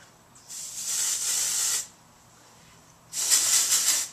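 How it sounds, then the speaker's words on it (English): Two bursts of hissing hairspray, the first lasting over a second, then a pause and a second burst, close and fairly loud, sprayed near the hair roots. "So I'm gonna just start spraying it."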